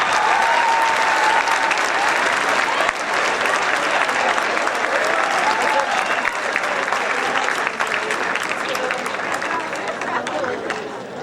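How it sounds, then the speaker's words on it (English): Applause from a lecture audience as a speaker walks on stage, a dense continuous roar of clapping with cheers and chatter that holds steady and fades slightly toward the end. "give a nice round of applause for Robin Petgrave"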